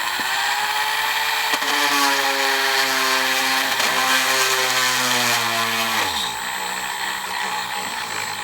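Small 2.1 mm drill bit boring into the metal superstructure of a DJH 2MT 2-6-0 model locomotive kit, a steady close-up whining drone with shifting pitch for about six seconds before it cuts off abruptly.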